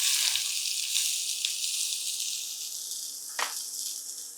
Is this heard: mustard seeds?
yes